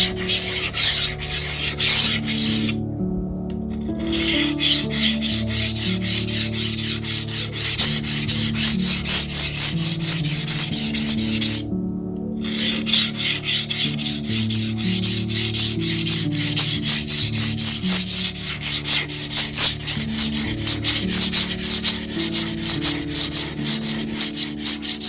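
A cheap kitchen knife ground back and forth on a worn grit 400 diamond plate, a loud continuous gritty rasping in long rhythmic strokes, close up, with two brief pauses, no talking.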